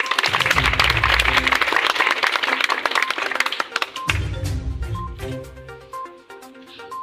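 Audience applause greets Haji Sabahat Bhati, a Provincial Assembly candidate, at a Sheikhupura campaign gathering: dense, loud clapping from a crowd under a booming PA system, fading gradually toward the end.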